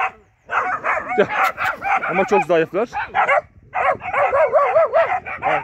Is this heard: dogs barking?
yes